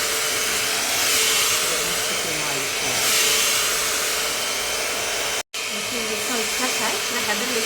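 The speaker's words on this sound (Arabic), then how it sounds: "أنا الحين قاعدة أستشوره مجرد استشوار عادي. ليش؟ بنشف الماي" Hair dryer blow-drying wet hair before styling, a loud continuous close-up whoosh with slight surges in airflow, briefly cut off for a moment and then resuming steadily.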